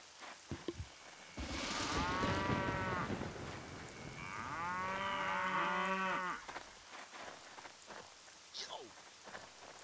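Cows moo in the Jagged Alliance 2 video game: two long, loud, drawn-out moos with a rain-like patter behind them, followed by quieter scattered sounds.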